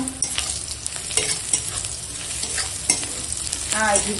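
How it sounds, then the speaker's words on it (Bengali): Whole cumin seeds fry in a hot pan, a close, crackling sizzle broken by several sharp spatula scrapes and stirs at irregular intervals. "গোটা জিরে দিয়ে এখন একটু ভেজে নেবো"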